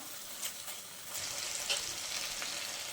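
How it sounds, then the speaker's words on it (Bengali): Ground cumin and coriander spice paste frying for a shrimp curry, a faint, soft sizzle with light crackles and a brief stir, no talking. "মশলাগুলো আমি খুব ভালোভাবে কষিয়ে নেব"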